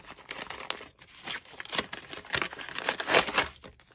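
A small plastic packet being handled and crinkled close up, irregular crackling bursts with brief pauses, fairly quiet and without talk.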